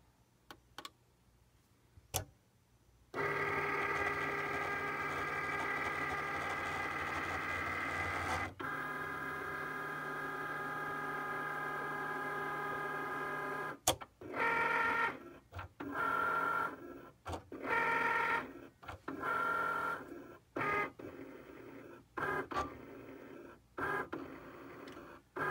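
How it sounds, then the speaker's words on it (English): A Cricut Explore cutting machine scans printed cardstock for calibration marks. After a few clicks, a motor whirs steadily for several seconds, then runs in a series of short stop-start mechanical bursts, close and alone. "it's scanning the page to find the calibration marks"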